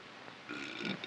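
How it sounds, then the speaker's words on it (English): A big, drawn-out burp from a football player during a soft-drink TV commercial shoot, a rough guttural belch rising over steady background noise and lasting about half a second. "first thing out of my mouth was a big burp"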